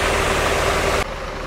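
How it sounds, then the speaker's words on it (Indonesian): Loud air conditioning on a full-sleeper intercity bus blows as a dense, steady roar over a low engine hum, dropping suddenly in level near the end. "Ini suara AC-nya kenapa kencang sekali ya?"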